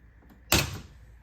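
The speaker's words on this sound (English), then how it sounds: "So I think we'll just open the door." Miele W487 washing machine door opened at the end of a Cottons 60°C Rapid cycle, a single sharp click-thunk close by, followed by quiet.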